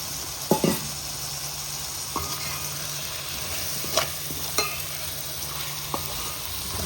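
Yogurt is stirred into mushroom biryani masala in a pot, a low steady sizzle with a few sharp spoon clinks and scrapes against the pan.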